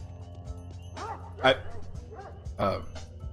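A dog barks loudly and repeatedly in the game Pathologic Classic HD, sharp yelping bursts with short whines between them over a low steady hum, and a person talks at the same time.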